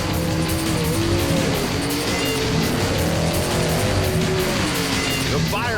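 A Firebird and a Mustang launch in a drag race at Bandimere Speedway, loud engines roaring with tire noise as the cars pull away, while an announcer talks over the racket.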